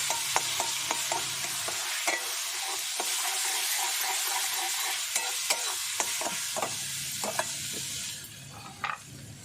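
Red chili powder gets stirred into a sizzling masala frying in oil in a pot over a village wood fire, with steady frying hiss and repeated scraping strokes of the spoon.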